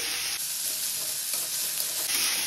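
Crushed garlic fries with onions in a pan, a loud, steady close-up sizzle with faint stirring scrapes and no speech.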